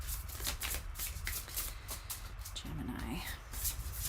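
Tarot cards being shuffled by hand, a rapid series of crisp riffling flutters repeating in quick bursts across the clip, close and clear, with a brief spoken voice briefly overlapping partway through.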